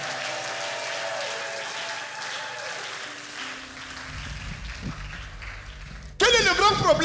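A church congregation applauds and cheers for Jesus, a sustained wash of clapping from many people that fades, followed by a voice speaking over the hall.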